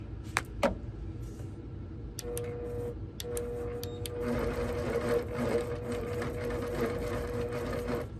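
A home sewing machine stitches a quilt with the Quilt Glide switched off, starting with a few separate clicks and then settling into a steady, fast mechanical whir at low speed, close and clear.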